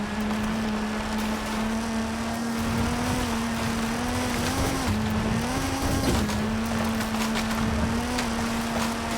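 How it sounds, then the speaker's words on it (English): A car drives off-road in the racing game Forza Horizon 5, its engine holding a steady, loud drone with slight pitch wavering and no talk over it. "This car is a bit slower off-road though."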